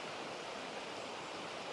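Steady, soft rushing of a river flowing past a riverside spot, an even wash of water noise with no talking.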